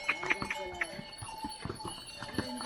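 Horses on the Hemkunt Sahib pilgrimage trail pause at a watering spot, with scattered hoof clops and shuffling on stone close by, while people talk in the background.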